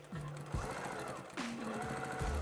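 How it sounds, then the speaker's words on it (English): A sewing machine stitches down quilt binding in short mechanical bursts, its motor whirring up and down in pitch between brief pauses, close and steady with no voices. "What I'm going to do is I'm going to sew down here"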